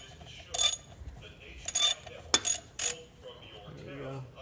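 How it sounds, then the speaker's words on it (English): A wrench turning a nut on a sprayer pump to free the impeller, with a few separate metallic ratcheting clicks and scrapes, close and moderately loud over a quiet background. "take that nut off, then we can get the impeller off."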